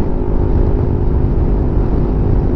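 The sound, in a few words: new motorcycle riding across bridge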